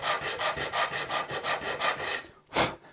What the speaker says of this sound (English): some good old-fashioned hand sanding on a radius block